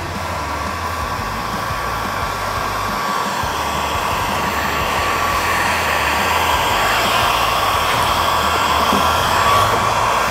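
A heat gun blows hot air over vinyl hood stripe wrap on a Camaro, giving off a constant, loud, steady whoosh with no breaks and no talking.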